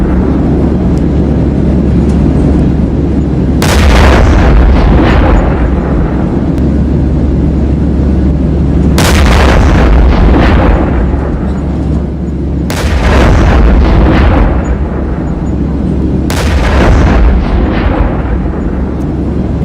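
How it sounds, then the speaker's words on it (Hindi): Several loud, heavy explosions boom out at intervals over a constant low rumble, each blast sharp and followed by a decaying roar. "धमाका हुआ और उस धमाके में पूरी गाड़ी के परखच्चे उड़ गए"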